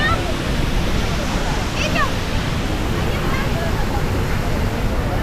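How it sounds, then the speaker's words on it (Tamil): Athirapally's main waterfall roars as a loud, continuous wash of falling water, with faint crowd chatter and voices mixed in. "இதுதான் பார்த்தீங்கன்னா மெயினான ஃபால்ஸ்"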